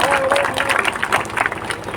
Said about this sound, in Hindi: जोरदार ताली बजा करके सुनील जी का स्वागत करिए।